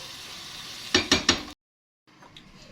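Cooked rice being gently mixed into sugar syrup for sweet zarda, three soft wet stirring scrapes in quick succession, then a short silence and faint handling noise.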